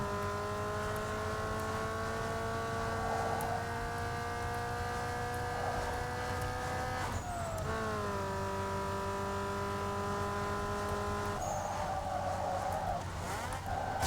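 A car in the racing game Need for Speed Underground 2 brakes hard, its tires screeching loudly over a steady engine drone and tonal whine, with brief squeal bursts around the middle and near the end.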